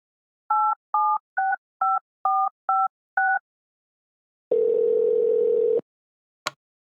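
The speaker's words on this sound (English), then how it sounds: "let's call Ian" A phone number being dialed: seven crisp, evenly spaced touch-tone beeps, then a single longer steady tone and a short click, loud and alone with no talking.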